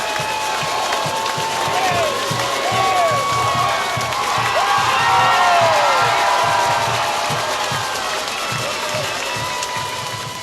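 A loud crowd at a 1994 Georgia high school state championship in Thomas County roars and cheers, with whoops, whistles, clapping and shouting kids building to a peak midway and then easing off slightly.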